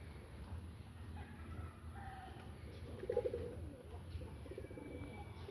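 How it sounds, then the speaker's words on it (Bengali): A domestic pigeon in a loft gives a single soft, low coo midway through, faint against a quiet background murmur. "আর এই একটা অতিথি কবুতর"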